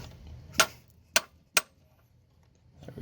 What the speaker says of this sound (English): You're going to hammer into it so it can crack loose a screw without stripping it.